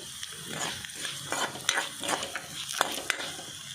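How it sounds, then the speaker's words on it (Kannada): Whole cinnamon, cloves and star anise frying in oil over a slow flame, giving a soft crackling sizzle with light scraping and clinks of a stirring spoon, close and moderately quiet. "ಆಯ್ಕೆ ಚಕ್ಕೆ ಲವಂಗ ಸ್ಟಾರ್ ಪೂ ಪಡ್ದು ನೀನು ಫ್ರೈ ಮಲ್ತಿಗೆ ತೊಂಗ. Slow ಫ್ಲೇಮ್ಡ್ fry ಮಲ್ತಿಗೆ ತೊನ್ಲೆ."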